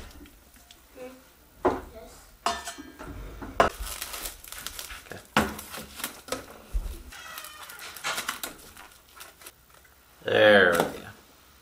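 Ground venison for homemade hotdogs and bologna dumped into a big pot, heard as scattered soft thuds, wet slaps and metal clatter from the pot, ending in a louder burst of handling noise.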